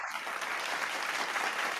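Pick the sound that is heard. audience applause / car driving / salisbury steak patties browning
audience applause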